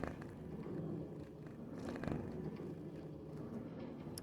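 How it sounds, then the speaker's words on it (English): A pet cat purrs steadily in a person's lap during a home livestream, a soft continuous low rumble held close to the microphone for several seconds with no talking over it. "They're purring up a storm."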